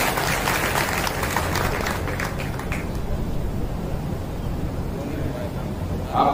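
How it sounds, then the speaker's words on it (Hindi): Clapping from an audience at a Brahmin community gathering, a loud dense wash of applause that gradually fades over several seconds, with a hint of talk returning at the end. "आपने तालियां तो बजाई"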